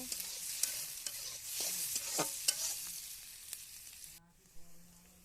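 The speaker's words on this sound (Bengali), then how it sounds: "পেঁয়াজ মরিচ ভালো করে লাল লাল করে ভেজে নিবে।" Onions and chilies frying in a pan for khichuri, a soft continuous sizzle with occasional scrapes and knocks of a stirring utensil, fairly quiet and close, ending in a brief lull.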